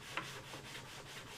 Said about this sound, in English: we're going to sand the flat rear section of our airfoil